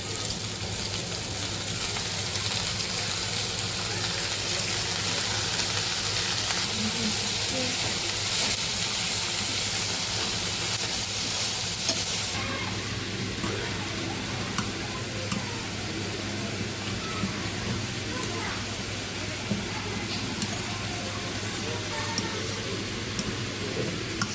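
Spinach sizzles and fries in a pan for dal palak, a steady close hiss of sautéing that brightens partway through, with faint stirring and no talk over it.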